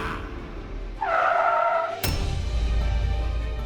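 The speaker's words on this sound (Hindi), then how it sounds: "क्या हुआ? गाड़ी क्यों रोक दी?" A car's tires squeal as it skids to a stop, a loud screech lasting about a second that ends in a sharp thump, followed by low engine rumble.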